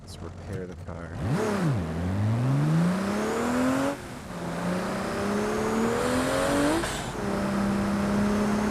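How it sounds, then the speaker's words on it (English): A turbocharged car engine in a video game revs up and drops with each gear shift, its pitch sweeping up and falling repeatedly in a loud, continuous drone. "I love the turbo sound when you shift."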